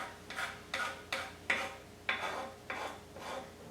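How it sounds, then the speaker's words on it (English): The back of a knife scrapes vanilla bean seeds across a cutting board in about seven rhythmic, rasping strokes, close and fairly quiet with brief pauses between each pass. "I like to use the back of my knife to scrape the board"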